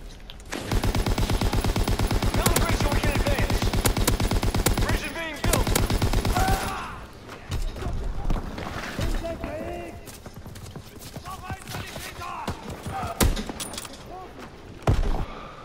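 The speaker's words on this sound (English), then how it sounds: "that is how you shoot through walls with the metal jackets" A Lewis LMG in the Call of Duty video game fires long, rapid, loud bursts of automatic gunfire, followed by scattered single shots and game noise, with someone talking over it.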